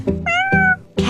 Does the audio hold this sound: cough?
no